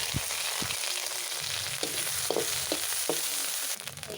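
Cumin seeds crackle and sizzle in hot oil with a steady frying hiss, scattered pops and an occasional stir.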